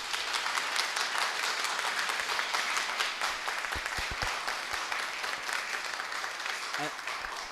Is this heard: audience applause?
yes